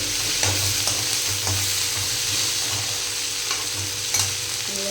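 Coriander and masala stir-fried in a pan while making mushroom masala, with steady close sizzling and frying hiss, scraping stir strokes recurring throughout, no talk.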